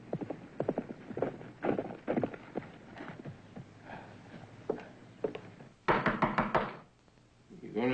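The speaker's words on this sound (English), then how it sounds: "You gonna stand there and knock all day long?" Knocking on a door in a western TV drama scene, with several sharp wooden raps spread through the clip among talk and other movement, followed by a louder burst near the end.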